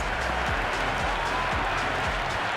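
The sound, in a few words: cheering cricket stadium crowd in video game Cricket 26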